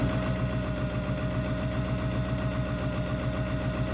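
A Ford Powerstroke 7.3 diesel truck engine that needs injector O-ring work idles right after a cold start, with a steady, loud, rapid chugging rumble and a faint high whine running throughout, close by and uninterrupted.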